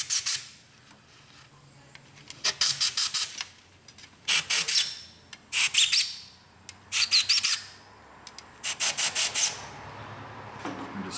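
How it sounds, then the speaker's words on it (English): Compressed air from a blow nozzle hissing into the bolt holes of a Caravan / Town & Country lower intake manifold being cleaned after a coolant leak, heard as about eight loud separate bursts, several in quick clusters of short blasts. "I'm just going to take a blow nozzle. Just kind of want to make sure all the bolt holes are cleared out."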